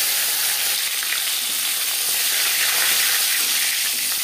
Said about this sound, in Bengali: 4-5 চামচ রিফাইন্ড অয়েল গরম করে নেওয়ার পর দিয়ে দেবো মাছের মাথা।